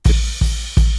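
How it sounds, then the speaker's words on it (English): A crash cymbal hit three times in quick succession, loud and close, its bright wash layered over a deep booming thump. "One last thing with the drums is this crash."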